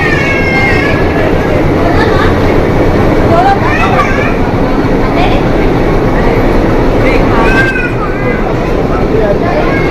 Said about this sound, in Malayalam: ട്രെയിൻ ഉടൻ തന്നെ യാത്ര തിരിക്കുന്നതാണ്.